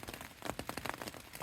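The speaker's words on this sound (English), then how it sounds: "it's been raining cats and dogs ever since" Heavy rain drums on a hiker's tent on the Appalachian Trail, a dense steady patter of close drops with no voices.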